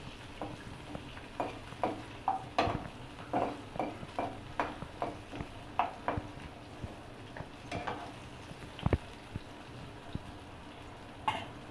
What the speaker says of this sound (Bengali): এটাকে বেশ কিছুক্ষণ নাড়াবো।